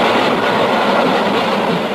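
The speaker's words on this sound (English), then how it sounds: "And there's a train coming!" A train runs on railroad tracks in a 1960 Tintin cartoon, a loud continuous rumble with rhythmic clattering wheels, close and without speech.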